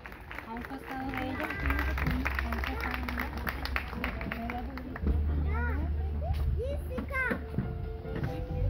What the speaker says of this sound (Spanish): Los aplausos para ellas